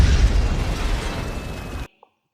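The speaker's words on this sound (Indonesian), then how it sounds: "kompornya pun meledak" A stove blows up in a cartoon SpongeBob movie scene, a loud, full booming explosion with a rumbling roar that lasts nearly two seconds and then cuts off abruptly into silence, with a tiny pop afterward.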